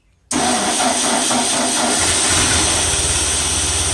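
A World War II era Ford 9N tractor engine catches after a brief silence and settles into a loud, steady running rumble close by.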